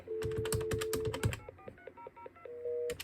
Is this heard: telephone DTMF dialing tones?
yes